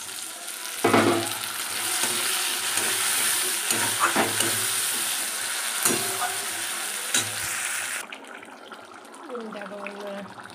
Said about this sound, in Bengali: টমেটোটা দিয়ে লাল লাল করে ভেজে নেবো।